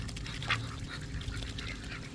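A large-necked drake duck gives a short quack while being hand fed, close and fairly faint over quiet outdoor background noise.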